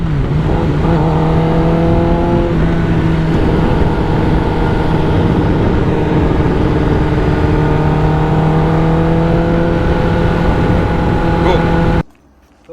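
A Kawasaki ZX10R motorcycle fitted with an SC Project exhaust, engine running loud and close with a sustained droning note that rises slightly, held for about twelve seconds before cutting off abruptly.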